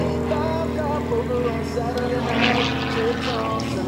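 An Extra 330LX aerobatic plane makes an inverted pass at the 2012 Tuscaloosa Regional Air Show, its steady propeller drone sounding over a public-address announcer.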